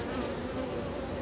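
Honeybees buzz steadily at a beehive, a dense close-up hum with no pauses and no voices over it.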